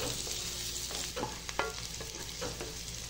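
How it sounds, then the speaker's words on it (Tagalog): Garlic and onion sautéing together in olive oil, a steady soft sizzle with occasional scrapes and taps of a utensil stirring the pan, no voices. "Sabay na igisa ang bawang at sibuyas dito sa ating olive oil."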